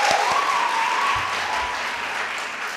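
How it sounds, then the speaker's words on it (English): A theatre audience claps in a dense, steady burst of applause that holds near full strength and then eases slightly, with a faint tonal whistle or hum drifting beneath it. "Give him a more serious clap than that."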